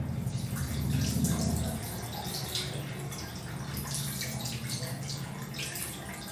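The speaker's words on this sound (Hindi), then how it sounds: "अब 1 मिनट के लिए हमें फिर से ठंडा पानी डालना है दोनों घुटनों पर।" Cold water splashes and pours steadily onto knees, a continuous close running-water sound with some dripping, fairly quiet, without talking.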